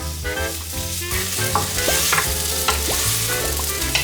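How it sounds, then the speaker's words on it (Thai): Chopped garlic fries in olive oil in a pan, a steady sizzle broken by repeated scraping and clacking of a utensil stirring, close and clear. "ใส่กระเทียมสับที่แม่บดเตรียมไว้นะคะ"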